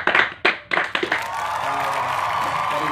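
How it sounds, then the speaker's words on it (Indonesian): An audience applauds a national champion silat athlete, a few sharp near claps quickly swelling into steady, sustained applause. "Tepuk tangan."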